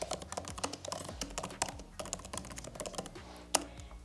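Rapid typing on a computer keyboard while composing an email subject line, dense irregular clicks close to the mic, with one louder keystroke near the end.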